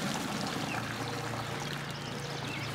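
Scalding hot water pours steadily over a wild turkey, a continuous close splashing rush with no talking.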